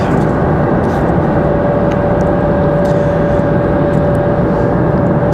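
Airbus A220-300 jet arriving at Raleigh-Durham airport, heard as a steady, loud, broad engine roar with a constant whine, holding even throughout without pauses or voices.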